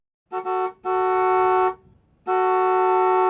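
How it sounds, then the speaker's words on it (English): A car horn honks three times: two short toots and then a longer blast, with one more long blast after a brief gap, loud and close with no other sound. "A car horn."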